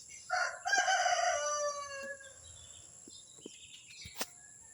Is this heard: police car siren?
no